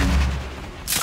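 A single loud, booming rocket explosion in a video game, a dense low rumble filling the whole second with a sharp crack at the end.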